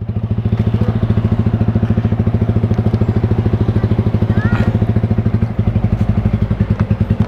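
Motorcycle engine idling and revving with a steady, rapid throbbing pulse, close and loud throughout.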